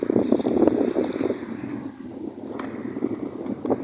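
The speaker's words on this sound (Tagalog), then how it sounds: "Yan, ganyan lang yan kasi mahangin." Steady wind buffets the microphone with low rumbling gusts, loud and continuous throughout.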